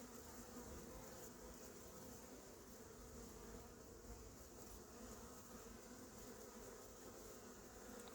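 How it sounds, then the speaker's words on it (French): Honeybees buzz at a beehive entrance in an apiary, a faint, dense, continuous hum of many insects with no talk. "Ah les abeilles elles sont à fond là."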